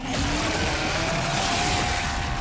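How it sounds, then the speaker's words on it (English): A chainsaw with a 14-inch bar drones loudly and steadily, its engine whining at high revs with a slight rising pitch throughout. "This chainsaw has a 14-inch blade with that signature meaty yet intimate sound"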